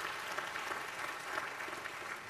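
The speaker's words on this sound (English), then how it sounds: "Let's give them all a round of applause before they begin." Audience applause for panelists at a poverty summit, a steady even patter of many hands, fairly faint and continuous for a couple of seconds.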